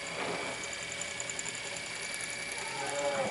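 A circa-1953 Singer 306W sewing machine running with its clutch disengaged, so the motor turns while the needle stays still, making a steady close mechanical whir with a faint ratcheting texture and no talking.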